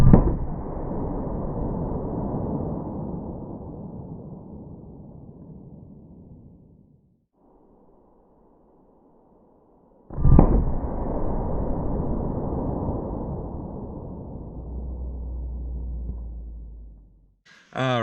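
A .44 Magnum handgun firing a Federal Power-Shok 180 grain round: a loud, close blast with a long decaying roar, then a second heavy shot with a similar tail and brief voices near the end.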